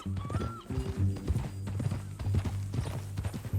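Horse hooves clip-clopping in Red Dead Redemption 2, a steady rhythmic trot up close, with a brief whinny-like tone near the start.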